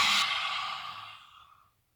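Yoga class breathing exercise: one long, deep exhale that starts strong and fades away over about two seconds, close and alone with no talking.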